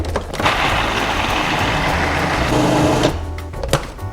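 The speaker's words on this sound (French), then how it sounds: "on va donc mettre les pois chiches dans le robot. On va mixer le tout" A food processor whirs loudly and steadily for about three seconds as it blends chickpeas, then stops, leaving a few clatters and rattles.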